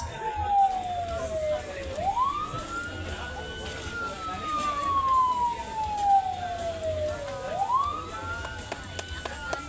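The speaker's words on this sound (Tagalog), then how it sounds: "May nagkakarera na ulit ang mga ambulansya natin." Ambulance sirens wail during a timed emergency response race at a line workers' rodeo, two long rising-and-falling sweeps repeating over steady background crowd and road noise.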